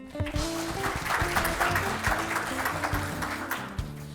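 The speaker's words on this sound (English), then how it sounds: "let's welcome him with a big round of applause." Applause at a formal regional conference as a guest speaker is welcomed, steady clapping from a seated audience layered over sustained background music, continuous throughout.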